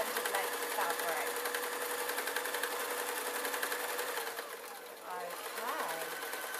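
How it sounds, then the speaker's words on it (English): Sewing machine stitching down a length of fabric for a crayon roll, a fast, steady mechanical whirr close up, briefly slowing then resuming. "I'm going to sew down to the end of my extended length of fabric."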